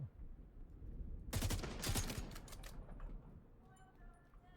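An M16 rifle fires in the video game The Division 2, a rapid burst of sharp cracks roughly a second long, followed by fading echoes and faint electronic tones under quiet background ambience.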